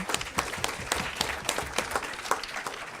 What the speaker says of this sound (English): y'all should clap